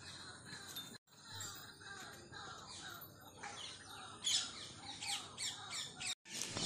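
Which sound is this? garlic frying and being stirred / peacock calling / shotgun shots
peacock calling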